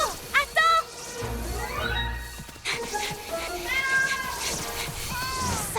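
A cartoon kitten stuck high in a tree gives a series of rising and falling meows, some short and some drawn out, amid other busy animated sounds.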